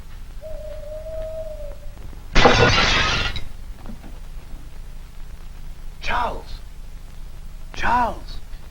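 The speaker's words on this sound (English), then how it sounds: "Watch me cut glass." Window glass shatters in a single loud, sudden crash that rings out briefly before fading, with voices talking before and after the break.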